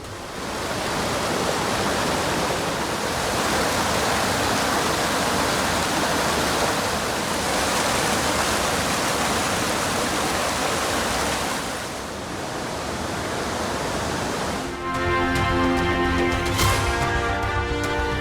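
Courtallam waterfall in the Western Ghats roars after heavy rain, a steady, dense wash of falling water that fills the scene continuously, with a brief tonal music sting near the end.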